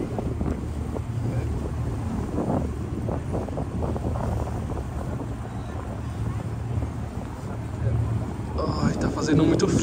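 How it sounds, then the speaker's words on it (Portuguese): Cold wind blowing straight into the microphone on a Seine river cruise boat at night in Paris, a steady loud rumble and buffeting throughout that swells near the end. "agora tá no sentido do vento, bem na minha cara"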